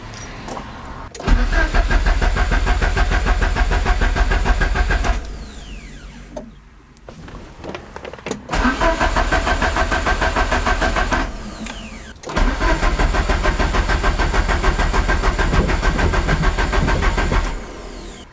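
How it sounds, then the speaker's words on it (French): A Peugeot 205 CTI engine cranks repeatedly in long loud bursts after a starter refit, the starter grinding with pauses between attempts, close and without talk. "Bon allez, on essaie de la démarrer."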